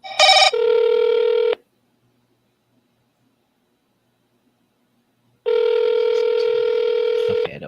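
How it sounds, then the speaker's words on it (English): Phone ringback tones on an outgoing real estate call: a short burst of dialing beeps, then a steady loud ring tone, a long silent gap, and a second ring that runs to the end. "I call Kathy again"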